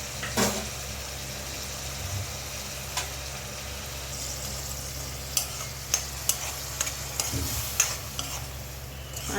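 A tomato, ginger, garlic and cumin paste fries in a pan for egg pulusu, with a steady low sizzle under a run of clinking stirs and spoon taps that grow more frequent toward the end. No one speaks.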